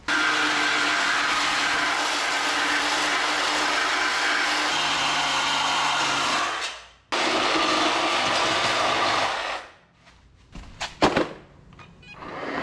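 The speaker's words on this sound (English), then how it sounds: "A sawzall takes 5 minutes, but building back is gonna take hours. So let's make the final chop." A sawzall cuts through the steel frame of a Jeep Wrangler being built for Ultra4, a loud continuous reciprocating buzz that drops out briefly and then resumes. It ends in sporadic clanks and rattles.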